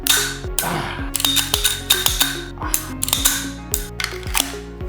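A Desert Eagle pistol with a stuck dummy round is racked over and over at an indoor shooting range. A rapid series of loud, close metallic slide clacks and ratcheting clicks repeats through the whole clip.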